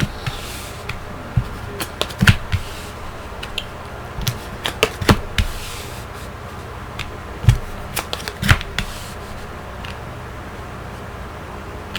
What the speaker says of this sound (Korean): 타로 카드 열어볼게요